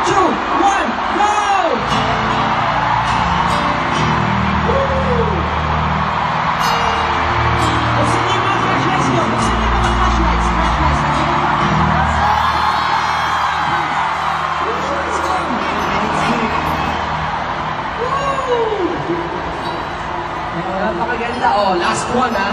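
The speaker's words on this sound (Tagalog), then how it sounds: "samahan nyo kayo naman na sigaw pabalik" At the kick-off concert, a large crowd of fans yells and cheers back together in a loud, sustained roar with rising whoops, while a voice speaks over the crowd.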